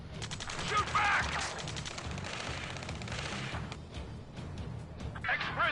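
Rapid gunfire from a ground firefight in Ace Combat 7, with bursts and shots crackling steadily throughout over a dense battle din and shouted voices.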